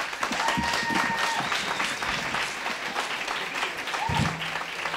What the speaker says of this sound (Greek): Χειροκροτάμε εδώ.